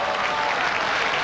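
A crowd at a bowls match bursts into steady, dense applause, continuous and fairly loud, with no single claps standing out.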